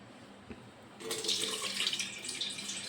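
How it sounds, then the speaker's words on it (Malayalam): Water strained off soaked ragi and poured into a bowl, starting as a soft trickle and swelling into a steady splashing pour for about two seconds, close and alone. "ഒരു പാത്രത്തിലേക്ക് ഈ വെള്ളം ഊറ്റിയെടുക്കാം."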